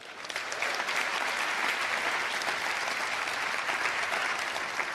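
Applause from an audience at the official opening of an international energy conference in Namibia, a dense, sustained clapping that swells quickly and holds steady throughout.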